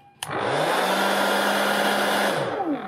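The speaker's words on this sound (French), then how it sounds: "Pour le test du sèche-cheveux" A hair dryer powered from a CERIHA 600 W portable power station starts with a click and then blows steadily as a loud, continuous whir with a low hum for nearly three seconds, before beginning to wind down at the end.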